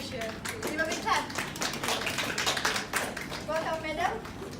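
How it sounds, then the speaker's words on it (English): Seminar audience claps in a short, sparse round, individual hand claps audible at close range, with voices talking over the clapping throughout. "Give a big clap."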